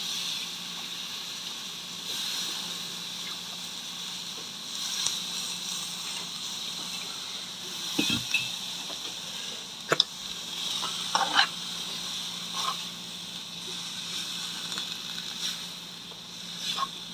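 Stirring fenugreek leaves into a tomato and dried shrimp curry in a pan, a steady soft sizzle with occasional scraping stirs and small clatters, no voices.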